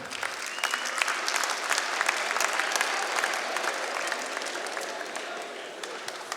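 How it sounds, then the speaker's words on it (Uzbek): A comedy concert audience bursts into sustained applause, a dense, steady clatter of many hands filling the whole stretch with no break. "Qarsakchalar qani?"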